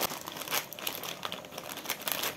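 Crinkly plastic packet of Korean instant noodles being torn and crumpled open, a close, continuous rustle with sharp bursts of crackling and no voices.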